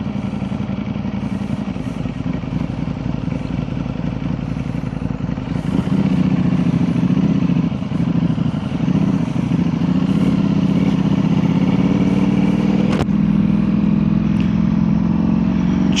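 A 2025 Ducati Panigale V4 superbike rumbles steadily as it pulls out of a dealership parking lot on a cold day, the engine note holding close and loud throughout with a slight rise in intensity partway through.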